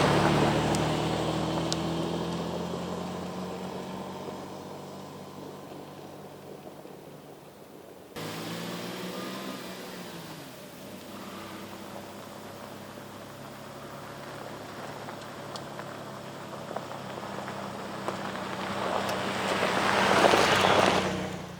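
A car cruising along a road through a burned area in Central Oregon, with a steady engine and road rumble, tire noise and wind building toward the end, heard from inside the vehicle without talk.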